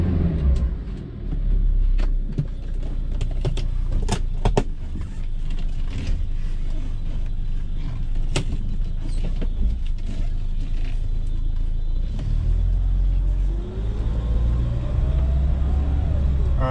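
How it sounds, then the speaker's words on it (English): A cold 1974 BMW 2002 engine idles steadily on its water choke with a low rumble, punctuated by scattered mechanical clicks and creaks, close by. "that's the choke, if you can hear it. Water choke."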